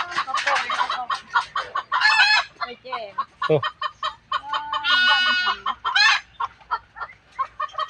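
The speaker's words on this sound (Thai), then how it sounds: "นี่ก็เป็นไก่เป็นยังเนาะ" Chickens cluck and squawk loudly close by in quick repeated bursts, with a rooster-like crow among them and brief human voices in between.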